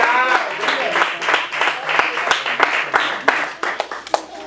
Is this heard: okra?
no